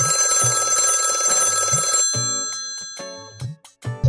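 A telephone rings in repeated bursts of bright, bell-like electronic trills, loud and close, with short pauses between rings and no talk over it.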